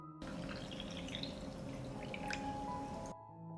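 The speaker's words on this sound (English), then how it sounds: "I pour water into the jars to cover the plums." Water pours in a steady, quiet trickling stream for a few seconds into glass jars of plums, with a faint splashing and gurgle as it fills them.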